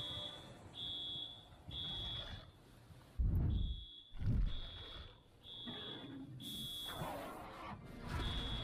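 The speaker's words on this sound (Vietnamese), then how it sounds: "Còi báo hiệu làm Spino bực mình." A repeating electronic warning siren in a Jurassic World dinosaur video game sounds in steady high beeping bursts, broken by deep thuds and rumbling game noises.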